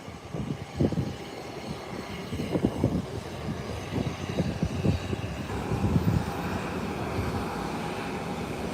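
A Twin Otter aircraft sits at an airfield during refuelling, its engine and propeller making a steady rumbling drone with irregular low thumps and some wind buffeting.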